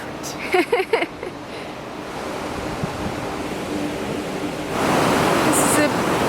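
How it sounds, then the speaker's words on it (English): Powerful rushing water of the River Dee below a bridge in Llangollen, Wales, a steady broad roar with wind buffeting the microphone, a few brief knocks early on and a louder surge near the end. "Some very powerful water down there."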